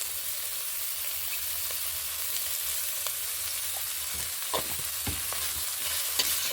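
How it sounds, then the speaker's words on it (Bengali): Steady sizzle of fish oil (fish fat) and spices frying in a pan, with intermittent scrapes and light knocks of a utensil stirring it. "এখন নাড়াচাড়া করে দেব।"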